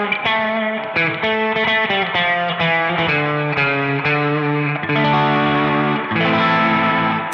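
An electric guitar set to a spaghetti western tone plays a run of sustained, ringing notes through distortion, chorus and echo, loud and alone with no talking.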